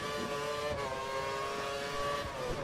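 An F1 race car in a racing video game, on a Brazil circuit, brakes hard with a continuous high-pitched engine whine that shifts in tone. Nobody speaks.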